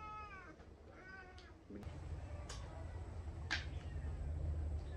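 Several cats meow close by, a few short rising cries spaced out over low background rumble.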